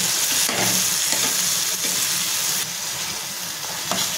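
Tomatoes with chili flakes and salt being sautéed in a pan, a continuous close sizzle broken by the scrape and clack of stirring at irregular intervals, dropping a little in level partway through.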